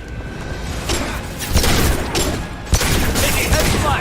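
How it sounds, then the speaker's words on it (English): Heavy gunfire in the sci-fi shooter game Space Man Legends: loud, sustained volleys of shots with booming impacts, growing denser partway through and punctuated by sharp blasts. "Taking heavy fire."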